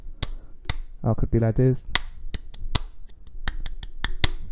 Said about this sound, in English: I'm gonna just clap my hand here